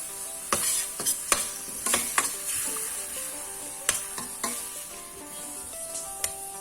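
Tamarind and jaggery syrup bubbling in a pan while cooking a sweet and sour chicken, a hissing sizzle broken by several sharp utensil clicks and scrapes against the pan, close by and uneven.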